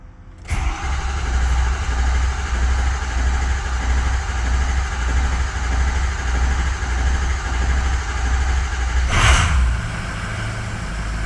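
A finished project truck's engine catches after a brief crank on a cold morning and settles into a steady, rough mid-pitched idle close by, with a short louder surge near the end.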